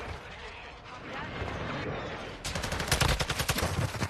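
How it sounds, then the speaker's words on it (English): Airstrike explosions in a multiplayer video game shooter: a steady rumbling barrage, then a louder burst of rapid repeated blasts in the second half, under a little background chatter. "I'm just gonna airstrike him."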